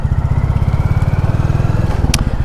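Close, loud Royal Enfield Classic 350 motorcycle engine, new and in its running-in period, running at steady low revs, with an even, rapid thumping pulse throughout.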